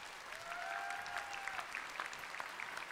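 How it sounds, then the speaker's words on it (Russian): An audience applauds steadily at a dance ensemble award presentation, a dense even patter of clapping that continues throughout at moderate distance. "Давайте, давайте все вместе. Бурные аплодисменты."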